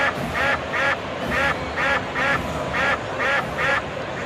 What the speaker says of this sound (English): Ducks still all over the pond.